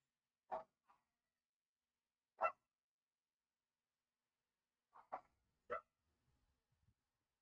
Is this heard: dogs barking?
yes